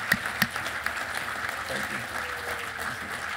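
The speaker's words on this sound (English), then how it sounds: "So one more round of applause and congratulations for every member." An audience at a pilot town hall during AirVenture claps, with a couple of sharp claps at the start before the applause thins into a murmur of crowd voices.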